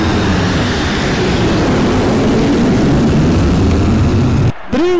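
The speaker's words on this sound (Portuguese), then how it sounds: "Olha o avião da WebJet informando o tempo." An airplane flies over a stadium in the video game Pro Evolution Soccer 6, giving a loud, steady engine roar that carries throughout before a brief dropout near the end.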